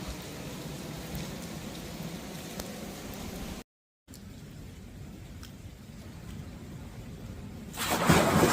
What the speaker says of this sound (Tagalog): It's nice to do shower on the rain.